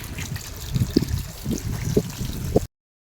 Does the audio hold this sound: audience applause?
no